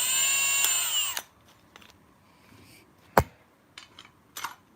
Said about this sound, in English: He's chucking his drill onto the shaft.